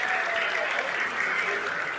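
Audience applause in a control room during the Chandrayaan-3 lunar landing broadcast, a steady wash of clapping throughout two seconds, fairly loud and close, with no voices over it.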